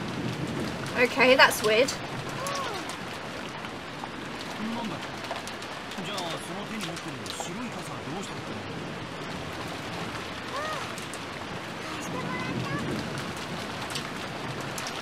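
Steady pouring rain from the visual novel Umineko: When They Cry, a constant soft hiss running throughout at moderate level, with a brief louder burst early on and a person speaking over it.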